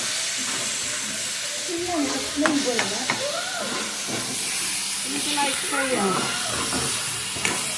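Tomato and onion fry in a pan for a prawn curry masala, a steady hissing sizzle with occasional stirring scrapes while a person talks quietly underneath.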